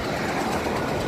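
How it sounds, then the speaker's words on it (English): Number 12 tram in Melbourne rumbling past on its rails, a steady close rolling clatter for about a second. "we've got a number 12 tram just about to pick up its passengers there"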